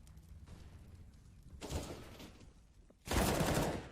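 Gunfire crackles during a professional CS:GO esports match, two short rapid bursts of shots rising out of a quiet background, the second louder and longer.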